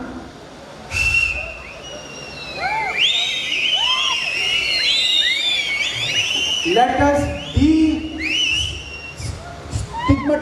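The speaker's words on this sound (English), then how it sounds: "destigmatize the whistle" An audience at a youth convention whistles loudly, many overlapping rising and falling whistles in bursts with crowd noise, while a speaker briefly talks over them.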